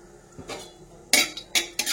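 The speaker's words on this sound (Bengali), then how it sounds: "কড়াইয়ের মধ্যে সর্ষের তেল দিয়ে দিলাম। এর মধ্যে দেবো একটুখানি কালো জিরে, দেবো একটা শুকনো লঙ্কা" A utensil clinks and clatters in a kadai (wok) holding mustard oil, nigella seeds and a dried red chilli, with a few sharp metallic knocks standing out over a faint background hiss.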